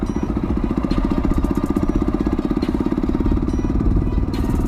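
Kawasaki Z200S motorcycle fitted with an Akrapovic Evo GP exhaust, running close by with a loud, rapid, throbbing exhaust note that holds steady throughout.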